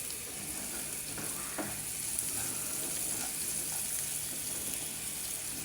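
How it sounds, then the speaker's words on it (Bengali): Home-grown greens frying in hot oil with a dried chili, a steady soft sizzle with occasional light scrapes of a spoon stirring through the pan. "এখন আমি শাক দিয়ে নাড়া দিব"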